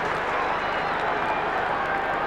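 A 1996 Australian football crowd at a St Kilda versus Sydney match applauding, a broad continuous wash of clapping and crowd roar filling the whole moment, loud and sustained.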